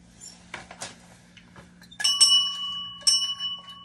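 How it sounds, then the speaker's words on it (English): A solid brass bell, pulled from a dumpster with a chandelier, is handled with a few soft knocks and then struck twice, each strike leaving a clear, sustained ringing tone close by. "Check out this bell."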